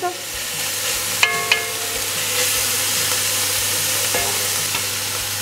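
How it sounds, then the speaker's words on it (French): Meat for carbonade flamande browns in its own juices in a pan, sizzling steadily and close, with a few sharp utensil clinks and stirring scrapes and no voices. "On les fait revenir dans le bon jus de la viande."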